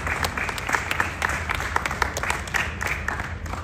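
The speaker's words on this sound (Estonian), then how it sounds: "ärge laske aplausil vaibuda" An audience at a ceremony at the Estonian National Museum applauds, with dense clapping and a few sharper individual claps standing out over a steady crowd wash.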